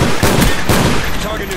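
Rapid automatic gunfire from a turret in the Call of Duty Black Ops jungle map, a loud, dense burst of repeated shots filling the short clip.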